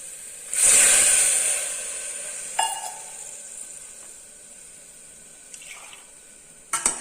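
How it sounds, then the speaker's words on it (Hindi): Spiced water poured into lightly browned onions in a hot pan, giving a loud burst of sizzling hiss that gradually fades to a steady simmer, with a few utensil clinks toward the end. "अब इसके अंदर डालेंगे हम मसाले वाला पानी।"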